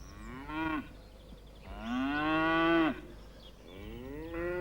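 Cattle mooing in three long, loud lowing calls, the middle one longest, close and clear with no talk.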